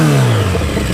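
A Yamaha XJ650 Turbo motorcycle engine revs loudly and close by in one brief, continuous burst, with no talking.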